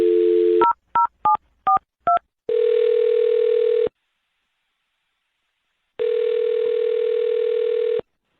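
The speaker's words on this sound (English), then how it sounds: "I'm going to dial her phone number right now" A telephone number dialed on a keypad: a steady dial tone, five quick DTMF beeps in a row, then two long ringback tones separated by silence, all clear and close with no talking.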